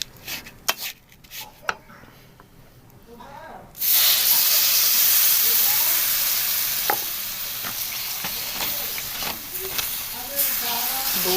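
Milk poured into a hot pan of rice halwa bursts into a loud, steady sizzle and hiss after a few quiet seconds of faint clinks, the frying noise holding strong to the end.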